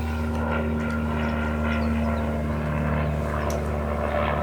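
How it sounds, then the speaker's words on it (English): An old World War II propeller plane passes overhead with a steady, loud engine drone that fills the whole moment, no talking over it. "That's an old World War II plane right there."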